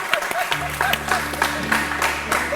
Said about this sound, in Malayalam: ശബ്ദം കറക്റ്റായെങ്കിൽ നല്ലൊരു കൈയടി തന്നാൽ കൊള്ളാം.